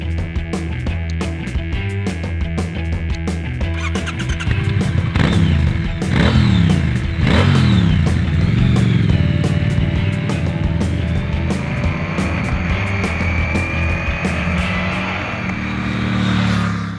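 A 2016 Triumph Thruxton R motorcycle passes with a loud engine drone that climbs through revs and gear changes, swelling as it rides by, with no talking.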